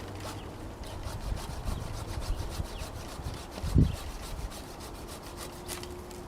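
A Silky pruning saw cuts through a fruit tree limb in a series of quick, rhythmic rasping strokes, close and moderately loud, with a brief snap partway through.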